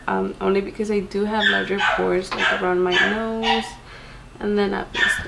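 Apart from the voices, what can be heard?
puppy dog barking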